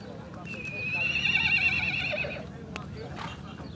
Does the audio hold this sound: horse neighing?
yes